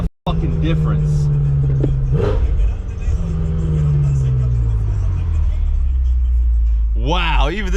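A BMW M6 drives with a deep, steady exhaust rumble that swells and settles, heard from inside the car, with someone speaking over it.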